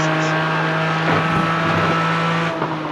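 A race car drives on the Road Atlanta circuit with a loud, steady engine drone that holds its pitch and rises slightly near the end, heard from close by with no voices.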